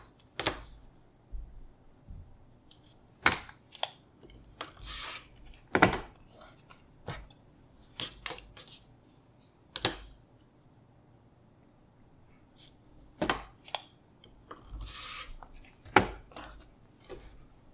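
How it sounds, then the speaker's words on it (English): Sharp, irregular snips and clicks of scissors or a rotary cutter trimming edges and corners off quilt fabric pieces, close and fairly quiet, with quiet pauses between cuts and no talking. "I'm going to trim these edges off, these corners."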